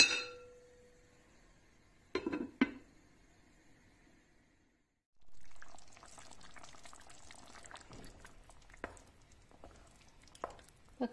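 A pot of pea and meatball stew simmers on low heat, bubbling faintly and softly throughout, with a couple of brief clinks early on.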